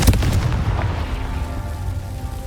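A Confringo explosive spell goes off in Hogwarts Legacy: one loud, close, booming blast at the start that rolls off into a fading rumble.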